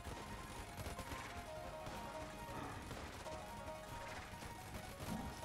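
Machine-gun rounds fired in Enter the Gungeon, a faint, continuous rattle of rapid shots blended with game sound effects and music.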